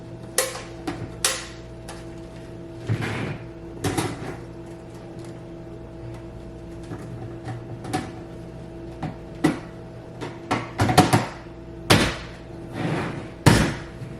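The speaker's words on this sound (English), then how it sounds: "Alright, here's the front door. It opens and closes like this." The front door of a sneaker wall cabinet is opened and closed repeatedly, giving a series of sharp knocks, clicks and soft thuds at irregular intervals, with quieter rattles between them, close by and without talking.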